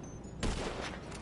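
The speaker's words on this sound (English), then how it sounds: "Stop shooting." Gunfire in GTA bursts in abruptly partway through as a rapid fusillade of shots that continues to the end, fairly close and harsh.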